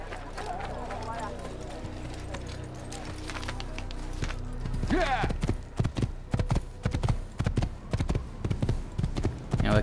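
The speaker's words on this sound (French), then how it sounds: "On va prendre un cheval." Horse hooves in the Assassin's Creed video game, starting as a soft walk under background ambience and building into a fast, loud galloping clip-clop rhythm of sharp repeated thuds, with someone talking over parts of it.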